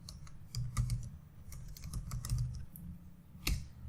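Quick, irregular keystrokes on a computer keyboard as a git command is typed, soft and close, with a sharper key press near the end.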